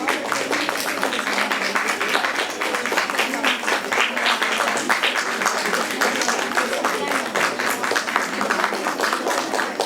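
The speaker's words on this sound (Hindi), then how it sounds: "Audience at the back, तालियां बजती रहें." Audience applause at a National Startup Day event, steady dense clapping from a crowd continuing throughout without a break.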